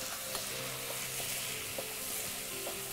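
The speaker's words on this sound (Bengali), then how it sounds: "এটা ভাজতে ভাজতে সাথে আমি এখানে আলু রেখেছিলাম আচ্ছা আমি আলু দিয়ে দিব" Potatoes frying in a pan make a close, steady sizzle with a few soft stirring clicks and scrapes, alone and without talk.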